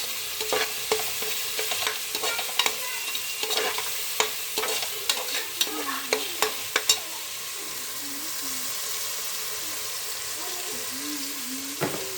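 Ginger-garlic paste sautés in a pan for egg rice, producing a continuous hiss with frequent spoon taps and scrapes from stirring, which thin out toward the end.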